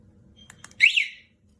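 A Rupse motorcycle anti-theft alarm gives one short, loud electronic chirp as it is locked and armed, with a few faint clicks just before it and silence after.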